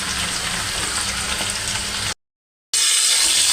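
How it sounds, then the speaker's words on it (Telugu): Sliced onion and green chillies frying in hot oil, a steady close sizzle broken by a brief silent gap before resuming loudly. "ఆయిల్ హీట్ ఎక్కిన తర్వాత ఒక ఉల్లిపాయ పొడవుగా చీల్చుకున్నది, ఒక 3 పచ్చిమిరపకాయలు వేసుకుందాం."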